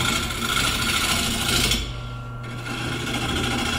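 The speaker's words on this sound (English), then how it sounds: "Start with just a standard bowl gouge, and I'm using the full size." Standard full-size bowl gouge cutting a natural-edge wood bowl on a small lathe, a continuous close scraping rasp over a low motor hum that eases off partway through, with no speech.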